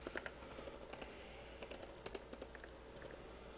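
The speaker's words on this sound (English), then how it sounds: "So I'm going to type up in here search." Typing on a computer keyboard, irregular bursts of quick key clicks with short pauses, at close range and fairly quiet, with no talking.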